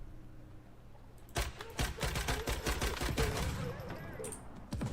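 Enemy gunfire in Once Human, a sudden burst of rapid automatic shots at close-to-mid range, then more shots, under a player's voice.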